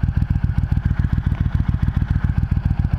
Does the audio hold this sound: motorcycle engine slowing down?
yes